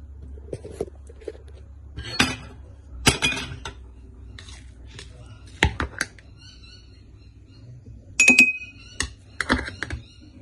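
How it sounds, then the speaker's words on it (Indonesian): Peeled garlic cloves tipped into a glass jar for a sesame-oil garlic pickle, giving a series of sharp clinks and knocks, several clustered bursts with short gaps, close and fairly loud over a low steady hum. "Sudah kita masukin dalam botol kaca."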